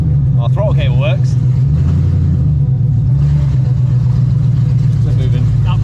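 A BMW E36 engine running steadily as the car rolls forward for the first time in years, a loud low rumble throughout with people talking excitedly over it.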